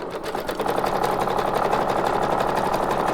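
A sewing machine stitches a zigzag along book pages, its needle hammering in a rapid, even mechanical rhythm, close and continuous.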